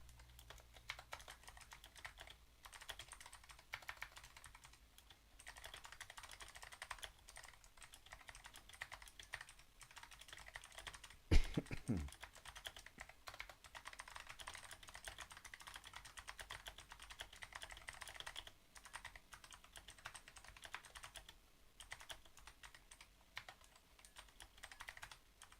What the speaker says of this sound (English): I might be able to just type it out without looking.